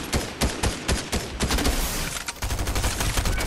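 Rapid bursts of gunfire in the video game Fortnite, sharp repeated shots in quick succession, loud and close, with a heavier volley toward the end.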